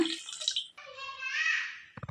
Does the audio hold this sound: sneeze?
no